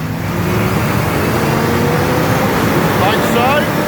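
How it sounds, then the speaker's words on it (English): A motor engine revs up during a spraying job, a loud continuous drone whose pitch climbs toward the end. "rev her up"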